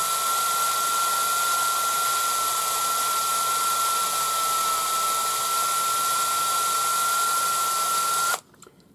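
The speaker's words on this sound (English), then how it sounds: "using this cordless drill is quite easy because you just stick the wire in" A cordless drill twists 1 mm wire in one steady, close, loud whine with a constant tone, running alone without pause and stopping abruptly near the end.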